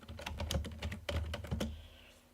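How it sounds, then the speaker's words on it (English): Quick bursts of computer keyboard typing, close and fairly loud, in two clustered runs of keystrokes that trail off toward the end with no talking. "maybe I probably should actually type this down."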